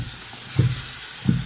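Cleaned shing catfish going into sizzling spice paste in a pan: a soft, steady frying hiss with two brief, louder sizzling bursts as pieces drop in, close and with no talking.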